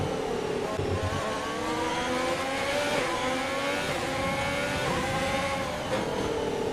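Formula 1 race car in a video game at night, a continuous loud high-pitched engine whine with shifting rising and falling pitch as it drives, locks up and runs wide during a championship-deciding final race.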